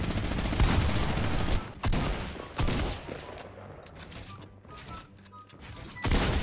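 Minigun fire in a video game, long dense bursts of rapid shots that stop and restart, loud at first and then quieter in the middle before a final burst.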